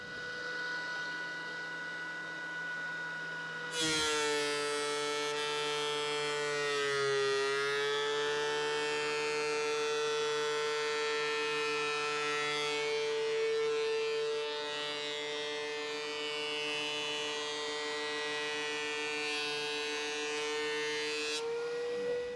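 A DeWalt DW735 planer with a vacuum system switches on after a few seconds of low hum, settling into a loud, steady high-pitched whine that holds for the rest of the clip and then cuts off near the end.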